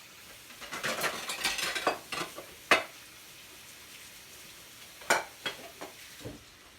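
Ground turkey, a 1.5-pound package, cooks in a pan with a soft sizzle, while a utensil scrapes and clinks against the pan in scattered bursts.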